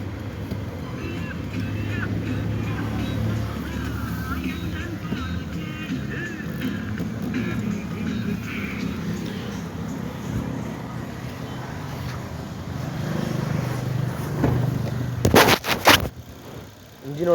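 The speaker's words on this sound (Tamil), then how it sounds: "இன்ஜினோட சவுண்ட்ஸும் கேட்டு பாருங்கள்." A used petrol car engine runs at a steady, rumbling idle up close, growing louder toward the end with a few sharp bursts.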